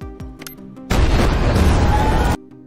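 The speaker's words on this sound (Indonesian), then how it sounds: "bom meledak dan menghancurkan sebagian ruangan" A bomb explodes in an action film scene, destroying part of a room; a sudden loud roaring blast with dense low rumble sustains for about a second and a half before cutting off, preceded by brief softer thumps.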